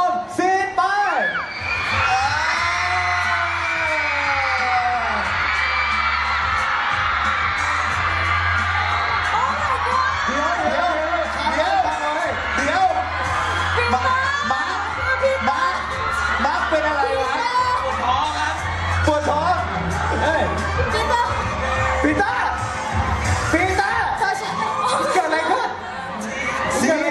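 Crowd of fans at a Thai fan meeting party screaming, whooping and cheering loudly and continuously, with a steady low hum beneath and shouted voices mixed into the noise.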